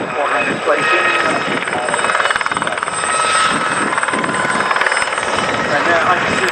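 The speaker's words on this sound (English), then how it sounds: "the gazelle helicopter really is a pleasure to fly" A Westland Gazelle helicopter flies its display at the Scampton Airshow, its rotor chop and turbine whine loud and steady with pulsing rises, while a commentator talks over it.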